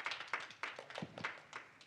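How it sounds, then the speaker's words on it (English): Faint, sparse clapping at a symposium on AI policy as a speaker is welcomed, a handful of distinct hand claps in an irregular rhythm, quiet and somewhat distant. "please welcome Mr. Martin Ford with a big applause"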